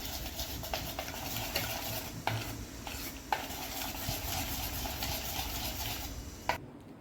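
Groundnut oil being stirred into moong dal dhokla batter in a bowl, making close, steady wet scraping and stirring sounds with a few sharper utensil clicks and no talking.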